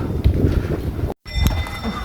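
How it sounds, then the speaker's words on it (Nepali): A horse comes along a steep, slippery mountain trail on the trek to Tilicho Lake, its movement audible as close, steady rustling and thudding over a short stretch with a brief dropout in the middle. "घोडा आउँदैछ।"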